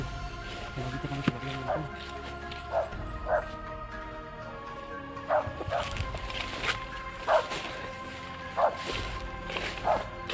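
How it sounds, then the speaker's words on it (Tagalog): A dog barks repeatedly at intervals over a continuous background of music, with some voices present. "Dahil may aso."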